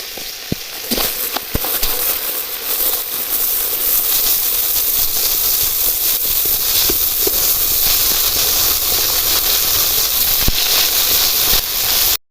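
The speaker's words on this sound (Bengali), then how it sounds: "মাছগুলো ভেজে নিচ্ছি।" Snakehead fish fry in hot oil in a kadai with a loud, steady, hissing sizzle that carries on without a break, close up and occasionally punctuated by small pops.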